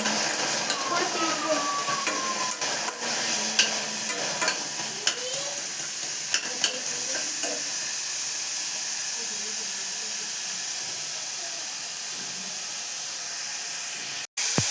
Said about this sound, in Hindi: टमाटर जो उसको डाल दूँगी, फिर अच्छी तरह मिक्स कर लूँगी